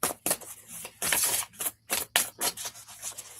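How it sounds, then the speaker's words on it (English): A tarot deck gets shuffled by hand in a series of quick papery riffles and rubbing bursts, about eight short, close rustles separated by brief pauses. "Should I shuffle it again? Okay, shuffle."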